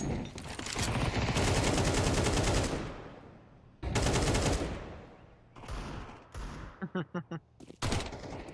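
Rapid gunfire from a Counter-Strike pro league match, loud sustained bursts of shots with brief gaps, then a short run of separate cracks, heard up close.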